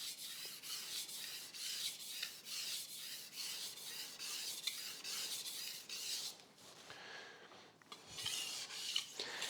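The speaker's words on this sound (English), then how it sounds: "forward and backwards kind of sweeping motion across the top of my sharpening stone" Kitchen knife blade swept forward and back across a sharpening stone, a quiet, close raspy scraping in regular strokes about twice per second, pausing briefly before resuming.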